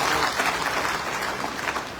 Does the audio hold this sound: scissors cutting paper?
no